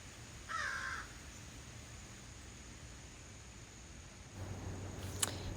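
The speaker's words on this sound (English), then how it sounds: "My little crow family are somewhere in these trees, and I hear them" A single crow caw rings out early on, somewhat distant, from trees under a North Georgia sky, over a steady hiss of background noise, followed by quiet outdoor ambience.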